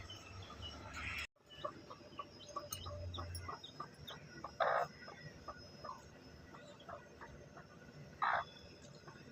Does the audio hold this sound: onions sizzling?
no